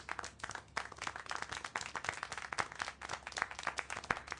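Continuous applause from a crowd in the video game Syberia: The World Before, many hands clapping in a dense, steady patter at fairly low volume, with no voices over it.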